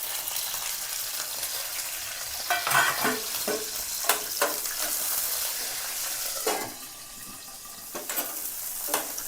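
Green chillies fry in a spoonful of oil with a steady sizzle, while a spoon stirs them in the pan and brief scraping knocks rise over the hiss.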